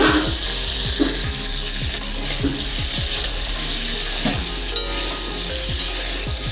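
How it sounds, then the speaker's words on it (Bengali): Potato and cauliflower pieces fry in a pan with only salt, no turmeric, giving a loud, continuous sizzle with rhythmic scraping stirs every half second or so, close up and free of talk. "শুধু নুন দিয়েই আমি ভেজে নেব"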